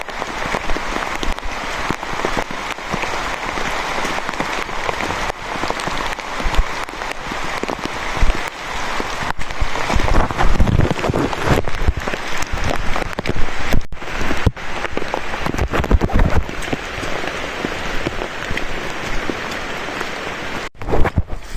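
Steady rain pours on a farm in a dense, continuous hiss of drops on surfaces, loud and close throughout with no pauses.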